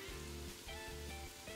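Garlic sizzling in olive oil in a pan, a steady close crackling fry with a few brief dips, no talking.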